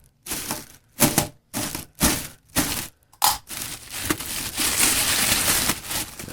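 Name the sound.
plastic wrapping being pulled off a Lotos LTP5000D plasma cutter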